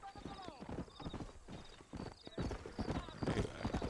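Horse hooves clip-clop steadily in Red Dead Redemption, a brisk rhythmic gait heard up close, with a short whinny and some voices in the background.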